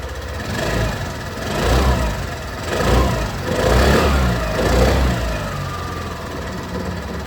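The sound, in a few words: Suzuki Access 125 scooter exhaust sound at engine start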